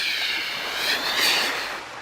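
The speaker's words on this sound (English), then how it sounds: "And some crashing waves." A steady, hissing wash of surf rises and falls gently, like waves breaking continuously without pause, fairly loud and unbroken throughout.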